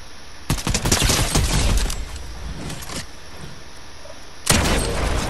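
Rapid gunfire bursts in the Fortnite video game: a dense volley of close, loud shots for about a second and a half, scattered fainter shots after, then a fresh loud burst near the end, with no talking.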